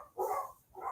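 A dog barks twice, a pair of short, muffled barks heard at a distance, fairly faint, with a quiet pause between them.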